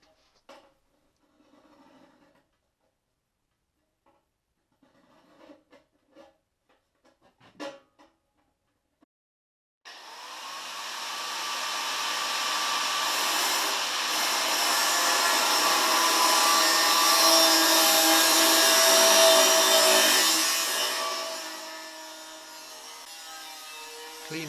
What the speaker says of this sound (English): then cut away the overhang with a thin disc in the angle grinder